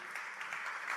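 Brief, faint applause from a music festival audience at the Arezzo Wave live evening in an auditorium, welcoming a guest with a soft, distant, continuous patter of clapping.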